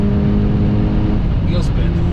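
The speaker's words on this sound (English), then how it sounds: "Wheel spin." Race-prepared 370 horsepower VW Polo on a track with its wheels spinning under hard acceleration, a loud, steady engine roar filling the whole stretch, with a brief higher squeal near the end.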